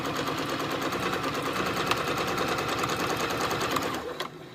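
Sewing machine stitching quilting lines on a zipper pouch with a waterproof lining, a fast, steady mechanical chatter running continuously up close before it slows near the end.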